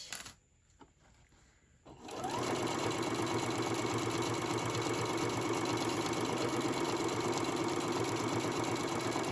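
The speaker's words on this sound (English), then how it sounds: "And just keep sewing." Sewing machine running steadily as it stitches a quilted fabric zipper wallet, after a brief quiet start with light handling; the motor drone and needle rattle continue loud and unbroken, with no talking.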